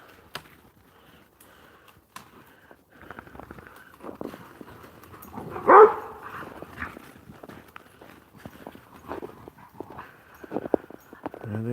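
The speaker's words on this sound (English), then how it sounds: "There they go, crazy dogs." Small group of puppies running around close by, their paws pattering in quick irregular bursts with scuffling and a louder thump midway.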